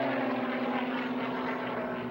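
Propeller airplanes of an aerobatic team fly a formation barrel roll at an airshow at Frederick Municipal Airport, Maryland, a steady droning engine hum heard at a distance with no one talking.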